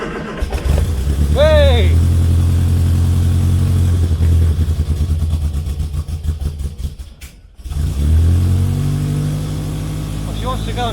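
A Morris Minor running on stale petrol cranks and catches, its engine then idling steadily and loudly up close, briefly faltering before picking up again, with a voice calling out over it.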